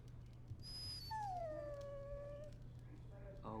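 A dog whimpers in Dragon Age: Origins, a few high, drawn-out whining tones that slide downward, heard over a steady low game hum with faint background noise.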